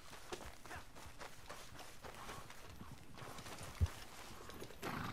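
Horse hooves clip-clop at a steady walking pace in Red Dead Redemption 2, soft and fairly distant. One brief thump stands out near the end.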